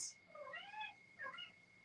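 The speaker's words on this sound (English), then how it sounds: "look how the cats, they run to him." Cats meow as they run toward a person, two quick whiny meows in a row, near and moderately loud, with a faint steady tone running underneath.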